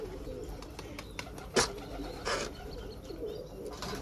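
Pigeons coo outdoors in a pigeon-keeping setting, soft repeated calls with a sharp wing clap or flutter midway, over steady low background noise.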